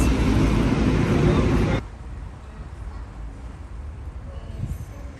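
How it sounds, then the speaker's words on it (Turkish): City street traffic in Buenos Aires with buses passing. A loud, broad roar from a passing vehicle drops suddenly to a quieter steady street rumble that continues to the end. "Otobüsler valla burada dolu geçiyor."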